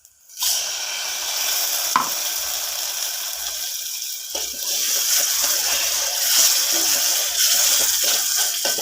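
Ground onion-tomato paste sizzles steadily in a hot oiled pan as water is poured in for an egg curry, a continuous close hiss with faint scraping, no talking.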